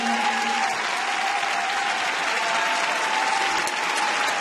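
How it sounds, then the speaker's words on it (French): An audience at a gala in France applauding and cheering for an athlete, a steady wash of clapping with a sustained tone running beneath it, no speech. "applaudissez fort, criez pour"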